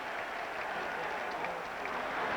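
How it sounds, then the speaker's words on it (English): Crowd at Williams-Brice Stadium during a 1984 college football game between Florida State and South Carolina, a continuous roaring wash of cheering and applause with no breaks, heard from a distance. "A roaring crowd of Williams-Brice Stadium"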